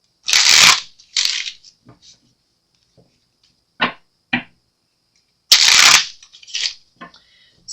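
Cards are riffle-shuffled in a few quick bursts separated by silence, with soft taps and clicks of the deck being squared up, close by.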